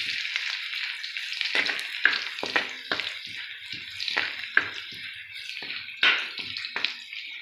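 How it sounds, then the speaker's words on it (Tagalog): Garlic sizzles and crackles in hot oil on its own, with onion already frying in the pan, a steady bright hiss broken by several sharper spatters and pops. "Ito, mainit na yan guys. Ayan, lagay na natin itong bawang."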